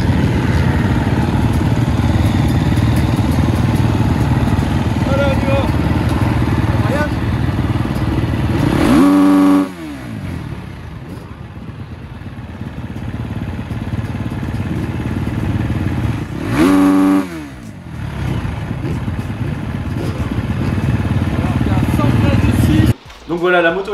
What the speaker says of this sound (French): en matière de bruit moto, c'est 114 décibels